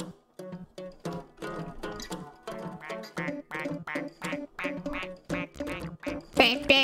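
A duck quacks in the video game Chuchel, a steady run of short, evenly spaced calls that holds a clear rhythm and ends in a louder burst.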